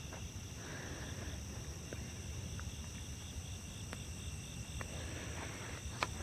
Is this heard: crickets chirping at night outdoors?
yes